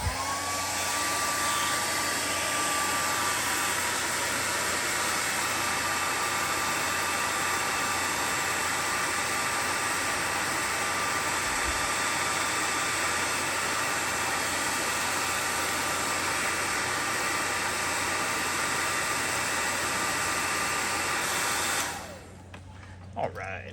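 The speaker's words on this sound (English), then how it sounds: "I'm gonna turn the hairdryer on and blow this thing out." A hair dryer blasts air through a tungsten fidget spinner toy after a bearing swap, a loud, steady, close whooshing roar with a thin whine that runs unbroken for about twenty seconds before cutting off abruptly.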